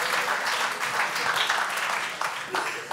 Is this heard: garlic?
no